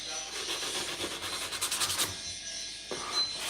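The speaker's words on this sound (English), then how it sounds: "Give it a good sanding around the gunnels," Wooden canoe gunnels being hand-sanded with fine-grit paper, a soft continuous rubbing scrape with a few quicker strokes, close and fairly quiet.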